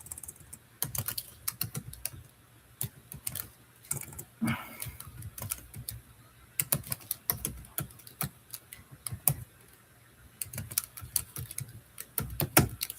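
Fingers type on a computer keyboard in irregular bursts of close, crisp key clicks, pausing briefly between runs, with no talking.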